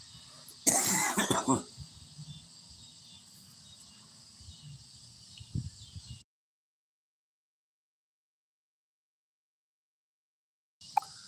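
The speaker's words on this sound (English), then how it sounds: "Y'all have to excuse me about that there coughing." A harsh burst of coughing near the microphone over a steady insect chirr, followed by a brief throat sound and then silence.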